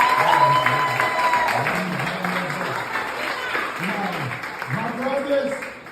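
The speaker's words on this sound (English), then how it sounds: "Applause for Barbara right now." Audience applause at a kizomba dance workshop in Sint Maarten, a steady wash of clapping from a crowd running throughout, with someone talking over it.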